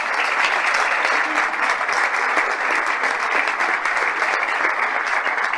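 A church audience applauds during a sermon, with loud, dense, sustained clapping from a crowd that holds evenly from start to finish.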